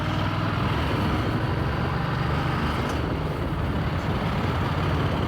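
Road traffic from a motorbike weaving through traffic on the way to Ducati Pro Twins at Godstone, a dense steady roar of engine and wind noise, loud and close with no talk.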